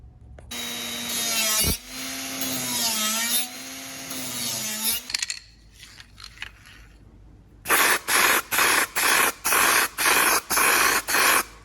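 A long whining drill run through metal body panels on a Honda Acty, rising and falling in pitch, a pause of small clanks, then a string of sharp, evenly spaced bursts from a pneumatic riveter.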